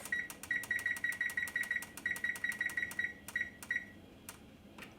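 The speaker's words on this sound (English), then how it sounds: "we're going to set our timer for 20 minutes" A kitchen timer set for twenty minutes gives a fast run of short, bright, evenly spaced beeps as its buttons are pressed, then a few slower single beeps, loud and close in a quiet kitchen.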